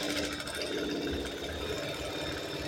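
A sewing machine stitching the back of a blouse runs in a steady, fast mechanical whir with a fine rapid ticking, close and continuous, no talking over it.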